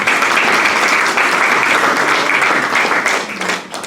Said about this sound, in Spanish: Regálele un aplauso, Señor.